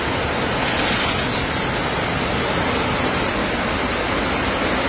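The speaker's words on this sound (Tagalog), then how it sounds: "Yan, para lumabas yung coolant." Coolant draining out of a Raider FI 150 motorcycle during a coolant change, a steady broadband rushing wash like pouring liquid, fairly loud and continuous throughout with no voices.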